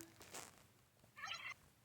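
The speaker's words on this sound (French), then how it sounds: "J'adore les glou glou de dinde." A turkey in the Roblox game Brookhaven RP gives two short gobbles, a quick burst and then a slightly longer warbling call, faint and clean with no talk over it.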